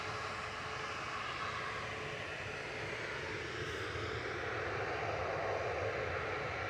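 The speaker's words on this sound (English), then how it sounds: "There goes EasyJet just lifting off" An EasyJet jet lifts off from Manchester Airport for Lanzarote, heard as a faint, distant, continuous engine rumble that grows a little louder over several seconds.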